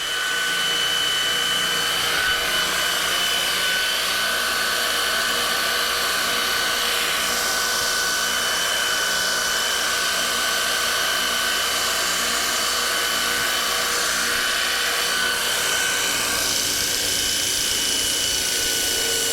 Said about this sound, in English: on the multi-tool here, I can just grind that right down